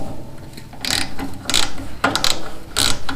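A ratchet tightens bolts on a Troy-Bilt chipper/vac, giving four short bursts of rapid metallic clicking, close and loud, with no talk.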